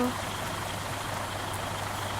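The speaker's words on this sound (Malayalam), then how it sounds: "മഴ ഭയങ്കര മഴയാണ് കേട്ടോ ഗൈസ്" Heavy rain in the game Bus Simulator Indonesia hisses as a steady, even wash with a faint hum beneath it, moderately loud and unbroken.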